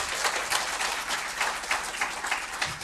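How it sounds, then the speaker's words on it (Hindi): Dense, steady audience applause fills a hall at a skill-building training event, many hands clapping together for about three seconds with no break and no voices on top. "एक बार जोरदार तालियां सर के लिए"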